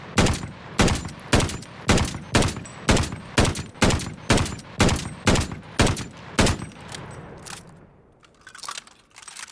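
An M1916 marksman rifle is fired from the hip in the shooter game Vanguard: about a dozen loud, evenly spaced semi-automatic shots in steady rhythm, then a quieter tail of mechanical handling.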